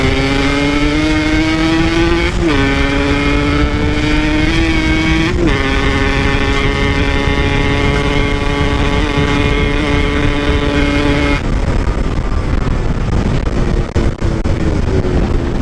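A motorcycle engine runs at high revs in a loud, sustained tone, dipping briefly a couple of times before holding steady and then easing off near the end.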